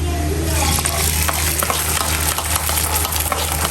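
An egg omelette with onion and chili fries in a pan, Narayanganj Bus Cabin style, giving a loud, continuous close sizzle dotted with sharp crackles and pops.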